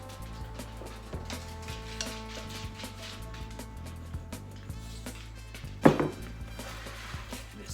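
Fried, breaded chicken wings tossed with sweet BBQ sauce in a bowl: a continuous soft, wet stirring and light scraping, with one sharper clatter near the end, close and fairly quiet, no talk.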